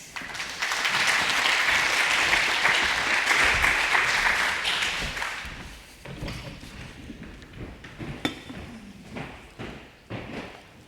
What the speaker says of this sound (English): Please welcome on stage with a huge applause, Nickolas Means.